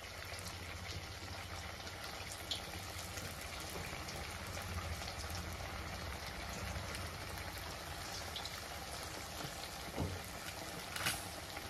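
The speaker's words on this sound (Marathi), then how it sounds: "आता हे राहिलेलं पण मी असंच टाकून तळून घेणार आहे" Sabudana vadas deep-frying in oil that has cooled slightly, giving a steady, even bubbling hiss that runs unbroken throughout at close range.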